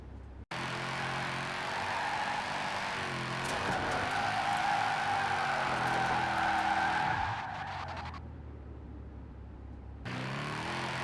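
Car drifting in Forza Horizon 4, a sustained loud tire skid and squeal over engine noise for several seconds, then dropping off and briefly returning at the end.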